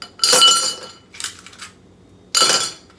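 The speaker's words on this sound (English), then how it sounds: "I'll put 3 ice cubes in there." Three ice cubes drop one by one into a glass bought for making iced coffee, each landing as a bright, close clink, with the third loudest and a short gap before it.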